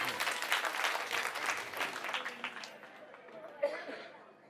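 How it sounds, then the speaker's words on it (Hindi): A crowd at a political rally in Burari, Delhi, breaks into loud applause that fades over a few seconds, with a little chatter and a brief sharp sound near the end. "एक बार जोरदार ताली अपने लिए बजाइए सब लोग"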